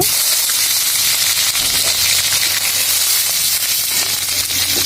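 Green chilies hit hot oil in a pan, giving a loud, continuous close-up sizzle and hiss that stays steady and unbroken throughout.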